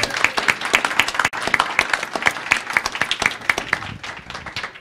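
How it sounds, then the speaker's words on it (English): A small audience applauds the event organizers, with close, distinct individual hand claps in a brisk, uneven patter that carries on steadily from start to finish. "I'd like everyone just to give a round of applause to Eileen Baker and Michael Westbecker for organizing"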